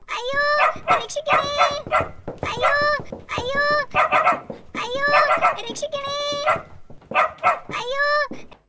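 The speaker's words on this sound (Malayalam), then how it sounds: "ഒരു കുട്ടിയെ നായ ഓടിക്കുന്ന ഒരു രംഗമാണ് നിങ്ങൾക്ക് ഇവിടെ കാണാൻ കഴിഞ്ഞത്" A dog barks repeatedly in quick, loud bursts while chasing a child, heard from a played video clip, with childlike voices and other animal calls mixed in.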